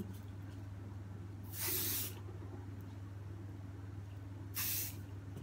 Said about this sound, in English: Fix spray spread it and then just do the same and wet.